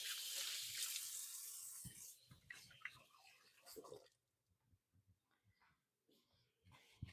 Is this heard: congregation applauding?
no